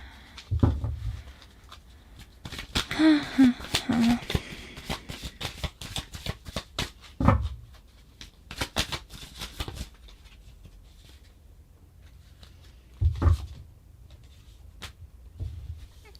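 Tarot cards riffle and shuffle in quick bursts, with soft taps and handling noises between them, close by and fairly loud.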